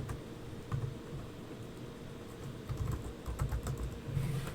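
Keys clatter on a computer keyboard in quick, irregular bursts of soft clicks, close and quiet, with short pauses between runs of typing.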